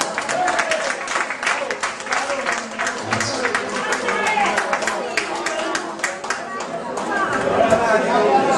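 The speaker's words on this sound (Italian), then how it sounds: "applauso, musica maestro" An audience at a restaurant performance claps in a dense, continuous burst of applause with chatter running through it, swelling slightly toward the end.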